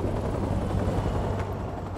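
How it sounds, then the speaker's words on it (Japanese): A helicopter returns in Call of Duty Modern Warfare Remastered, a loud, steady rotor drone with a low throbbing hum that holds unbroken throughout, with no voices over it. "ヘリが戻ってくる。"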